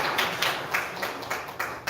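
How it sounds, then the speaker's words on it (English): A small crowd claps in bursts of applause at a memorial funeral service, the pattering rising and falling in several waves with no voices over it. "Let's give her a round of applause"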